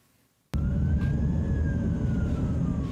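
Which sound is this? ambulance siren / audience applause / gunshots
ambulance siren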